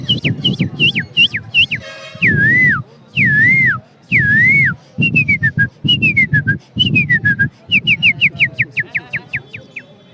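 A man blows bird-call whistles at a bird market, producing a rapid series of loud, close, swooping and trilling chirps in short bursts that mimic birdsong, with a low crowd murmur underneath.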